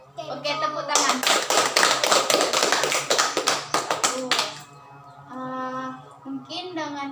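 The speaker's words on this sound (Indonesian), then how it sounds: "Oke, tepuk tangan." Classroom or school-hall audience clapping hands in a burst of applause lasting about four seconds, fairly loud and dense, then fading into quieter sounds with a voice and speech nearby.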